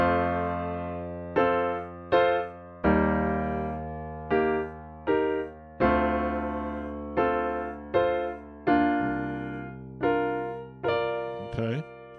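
Keyboard plays a four-bar chord progression with inversions and slash chords, a dozen sustained chords struck one after another at a steady pace, full and resonant, with a brief quick run near the end.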